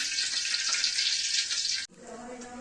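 Biscuit pitha fry in hot oil with a dense, steady hiss close by that cuts off abruptly, followed by a quieter, softer sizzle.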